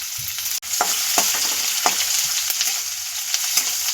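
Finely chopped onion dropped into hot oil with cumin and mustard seeds fries with a loud, steady sizzle and crackle, with occasional stirring clicks close by and no talk.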